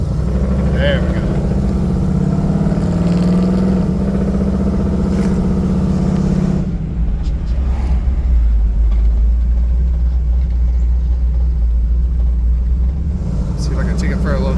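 A 1984 Chevy K5 Blazer engine idles while warming up, a loud, steady low rumble with a shift in tone partway through as the truck's noise changes, close and continuous.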